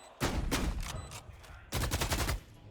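Bursts of automatic gunfire in a Valorant match at a grand final, two rapid rattling volleys close and loud, separated by a short pause.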